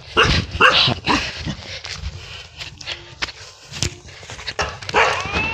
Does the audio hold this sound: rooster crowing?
no